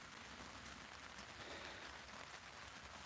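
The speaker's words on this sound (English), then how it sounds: "So it's decided to rain today." Steady rain pattering on a canopy set up outdoors for a farm's chicken processing, a continuous even hiss with no voices.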